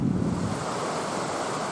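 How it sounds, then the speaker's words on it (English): Water running into Easedale Tarn, a mountain lake, makes a steady broadband rush mixed with wind buffeting the microphone, loud and continuous, with no voices. "There's the water coming at the tarn."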